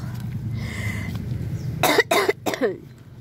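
Three harsh, close coughs burst out in quick succession after a stretch of low background noise.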